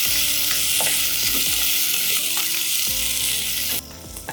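Crushed ginger-garlic, cumin, curry leaves and green chili fry in hot oil for a buttermilk kadhi, giving a close, continuous sizzle with repeated scraping stirs of a spoon in the pan.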